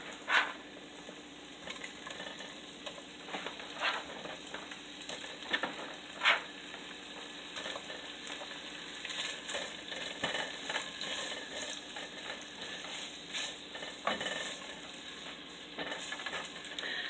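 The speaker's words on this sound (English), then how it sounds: "now we're going to add the sausage in. And we're going to brown that." Sausage browns in a pan with a light, quiet sizzle, scattered with small pops and the clicks and scrapes of a utensil moving it around.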